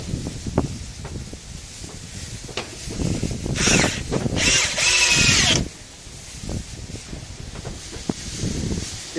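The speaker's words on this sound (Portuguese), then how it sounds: "Vou parafusar ela aqui." A cordless drill drives screws into a wooden bench with a backrest, outdoors on a windy day. There are two short, loud whirring bursts in the middle, set against gusty wind noise and light handling clatter.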